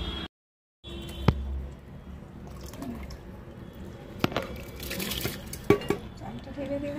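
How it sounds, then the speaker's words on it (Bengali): Rice poured into a cooking pot of water for boiling, a wet rushing and sloshing with scattered drips and clinks, close in a home kitchen with faint background noise. "চালটা ঢেলে দিলাম ভাতের মধ্যে"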